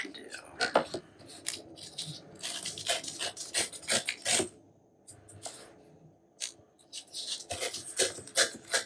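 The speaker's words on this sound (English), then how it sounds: "Let's make some rips this direction, a little wider." Very thin paper torn by hand into wide strips, making a series of close, rasping rips in quick bursts with short pauses between them.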